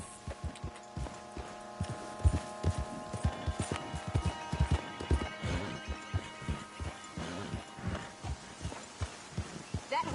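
Horse hooves in Red Dead Redemption II clip-clop at a walking pace on hard ground, an uneven rhythm of muffled thuds over a faint ambient hum.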